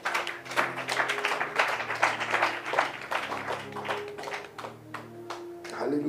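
A church congregation claps in a steady rhythm, sharp and fairly close, over sustained keyboard or organ chords.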